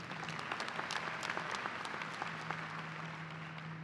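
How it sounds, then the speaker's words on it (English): A commencement audience at a university fall graduation bursts into steady, full applause, many hands clapping together throughout with no one speaking. "it deserves applause."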